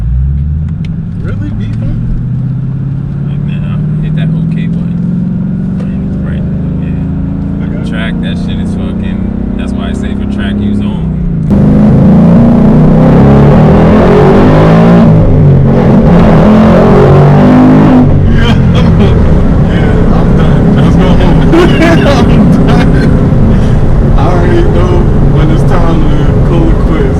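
A 2019 Ford Mustang GT driving, its engine droning steadily at first, then swelling into a louder, rougher roar as it accelerates, with people talking over it inside the car.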